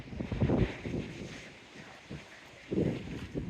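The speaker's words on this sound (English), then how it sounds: "definitely a windy Seawall today" Wind gusts across a seaside seawall at Dawlish, buffeting the microphone in low rumbling surges that swell, ease, and swell again, with no voices.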